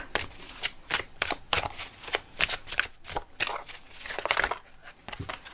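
Oracle cards are shuffled by hand in a steady run of crisp riffling and papery slaps, close and fairly quiet, continuing throughout.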